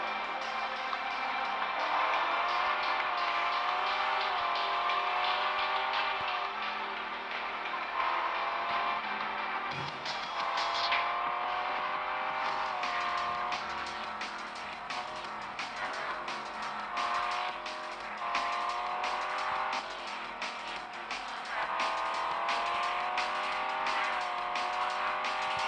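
Race car engine and exhaust in the Real Racing 3 mobile game, a loud continuous high-revving drone that climbs and drops through gear shifts, with tire squeal now and then and no talking over it.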